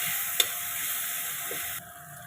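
Broad beans with broken lentil dumplings, chili, onion and black cumin frying in a pan, producing a soft, low sizzle with a single sharp tick early on, the frying noise dropping slightly toward the end.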